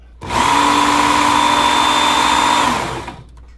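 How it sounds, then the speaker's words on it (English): A Work Sharp Ken Onion Elite belt knife sharpener spins up to a steady, loud motor whine with a faint belt hiss, holds for more than two seconds, then drops in pitch as the speed is lowered and winds down. "The Work Sharp also has a speed adjustment on the motor."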